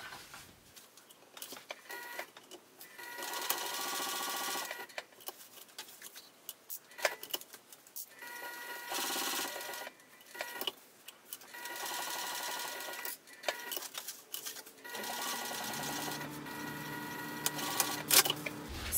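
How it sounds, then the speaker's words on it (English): A sewing machine stitches a wristlet seam edge to edge in a string of close, uneven bursts with short pauses, the motor whirring steadily, and a few faint clicks near the end. "So we're just going to sew from one edge to the other."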